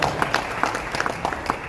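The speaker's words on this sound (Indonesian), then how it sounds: "Tepuk tangan dong." Audience applause at an Indonesian government planning forum, a dense patter of clapping hands with scattered sharper claps, close and fairly loud, brief and without a break.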